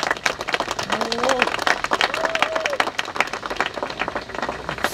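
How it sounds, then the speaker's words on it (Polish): A crowd at a political campaign event, where a mayoral candidate is presenting his council candidates, applauds with thick, continuous clapping, and a few voices cheer through it. "Ogromne brawa!"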